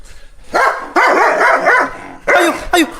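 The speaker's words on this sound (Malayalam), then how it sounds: "അയ്യോ അയ്യോ അയ്യോ അയ്യോ പട്ടി പട്ടി പട്ടി." Dog barking in a radio drama, loud repeated barks and yelps in bursts, close and clear, with a short pause before a final flurry.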